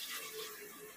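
Water is poured from a glass into a pot while chana dal pulao cooks, a brief, steady splashing stream, close and moderately quiet.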